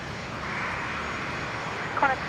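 Velocity 333, a service from Melbourne, at Brisbane International Airport: a steady, distant jet-engine roar that holds throughout, with a brief faint sound near the end.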